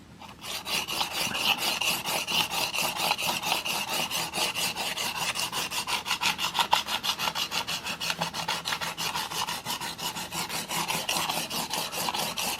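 Single bevel knife sharpened on a 200-grit diamond plate, a steady, rhythmic rasping scrape of quick back-and-forth strokes, close and continuous throughout with no talk.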